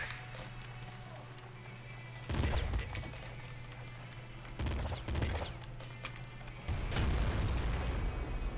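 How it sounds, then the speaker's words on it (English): Several loud booming car explosions and crackling bursts go off at intervals over a steady low hum in the video game Nuclear Throne. "Chance to get hit by the car explosion"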